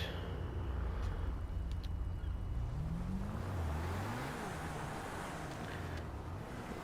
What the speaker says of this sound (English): That is a car behind me.